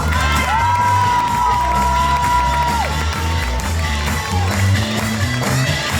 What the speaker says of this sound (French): je voudrais qu'on applaudisse bien fort celle qui est magnifique dans sa tenue à paillettes, Anna